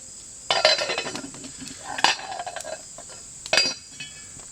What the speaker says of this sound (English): Get that shoved over the fire, over the coals there, and get the lid on it.